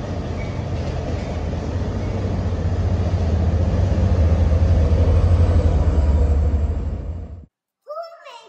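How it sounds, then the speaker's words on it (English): A passing express train rumbles loud and steady for about seven seconds with a rushing, rattling roar, then cuts off abruptly, followed by a brief faint voice. "I think it's an express train."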